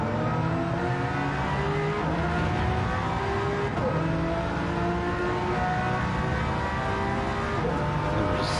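A Lamborghini GT race car engine heard on board during a lap of Fuji in a racing game, loud and continuous, revving up and down through gear changes with steady high-pitched drone.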